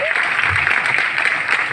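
Continuous applause from a seated audience at a sales training seminar, steady and fairly loud throughout with no pauses.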